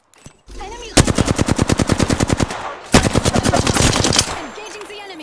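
Rapid automatic gunfire from an Apex Legends firefight, two loud sustained bursts of evenly spaced shots with a brief pause between them, close and dominant.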